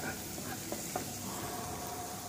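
Garlic frying in a pan during continental cooking as moisture cooks off, a faint steady sizzle with soft stirring scrapes, fairly quiet and continuous with no voice.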